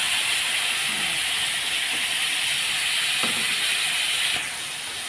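Spices with ground green chilli, cumin powder and ginger paste, plus a splash of water, frying in a pan for a fish curry, giving a steady loud hiss and sizzle that eases near the end.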